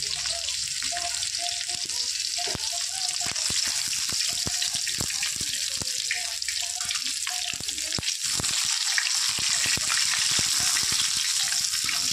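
Pieces of shol (snakehead) fish fry in hot oil, giving a steady, dense sizzle that runs the whole time with scattered crackles and pops and occasional clinks close by.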